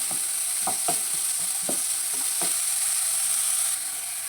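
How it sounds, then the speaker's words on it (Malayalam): Rava upma ingredients sautéing in a pan, with a steady sizzle throughout and several distinct scraping stirs of a spoon against the pan in the first two and a half seconds, close and clear with no talking. "എല്ലാം ഒന്ന് വഴന്ന് വരട്ടെ"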